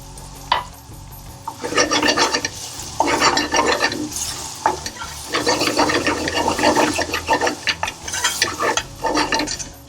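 Spices for Chicken Methi hit a hot pan and sizzle as a utensil stirs and scrapes them in repeated bursts, loud and close, with no talking.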